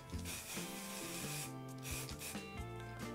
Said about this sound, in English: So this is just a bit of varnish, which I'm going to spray over that first coat.